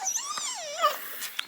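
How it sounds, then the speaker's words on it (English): Excited dog whimpering and whining in high, wavering, nasal tones, near and fairly loud, with a short sharp yelp near the end and no talk. "I've got a very excited dog here"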